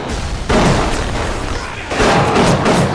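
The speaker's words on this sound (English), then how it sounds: "Explosion." Two heavy booming blasts from explosions in the video game Bioshock, each a loud broadband burst with a lingering rumble, the second arriving about one and a half seconds after the first.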